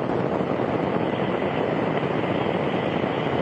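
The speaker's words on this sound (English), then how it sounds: "Liftoff of the Soyuz rocket" Soyuz TMA-13 rocket engines roar at liftoff, a dense broadband rumble heard from a distance, steady and continuous without voices.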